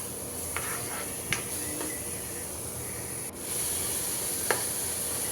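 Green chilies and onions sizzling in a frying pan: a steady, even hiss with a few faint clicks and scrapes, and no talking.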